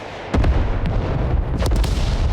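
A unit fires at an enemy in the real-time tactics war game Broken Arrow with a sudden loud boom that keeps rumbling, followed by several sharp reports of gunfire and artillery.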